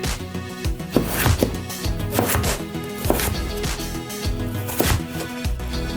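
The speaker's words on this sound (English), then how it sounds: "Then we cut it this way. We need to make little squares" A knife chops food into little squares on a cutting board, a close, rapid series of sharp taps in uneven bursts, with a kitchen bustle beneath.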